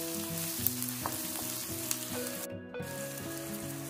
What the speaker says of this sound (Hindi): प्याज के साथ साथ हमने 2 लाल मिर्च ली है, सूखी लाल मिर्च, सबको भी डाल देंगे। प्याज को अच्छे से भून लेंगे।